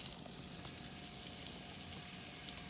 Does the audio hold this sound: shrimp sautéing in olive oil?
yes